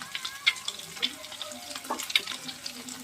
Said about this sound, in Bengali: রসুনটা সুন্দরভাবে তেলের মধ্যে ফুটে যাচ্ছে।